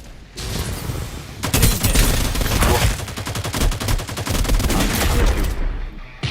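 Video game gunfire comes in dense automatic bursts and rapid shots, loud and continuous for several seconds with brief gaps, the crackling volleys sounding close and overlapping.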